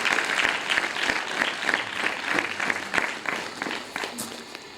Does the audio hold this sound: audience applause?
yes